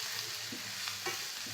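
Chili and turmeric powder sautéing in a pan for an egg tadka, a soft steady sizzle with faint stirring scrapes, close and quiet, no talking.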